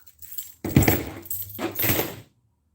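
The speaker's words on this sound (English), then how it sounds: "I got enough keys over here, man." Metal clinks and jangles in a few quick bursts, close and fairly loud, likely a bunch of keys being handled, with silence before and after.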